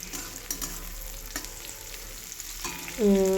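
Papaya and mixed vegetables, cooked with a fish head, frying in a pan under a steady hiss, with a few scrapes of stirring and a louder burst of sizzling near the end as more vegetables go in.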